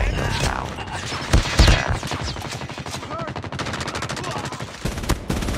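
A hostile sentry gun in Call of Duty Mobile fires rapid automatic bursts, loud and close, with sharp cracks layered over steady battlefield din.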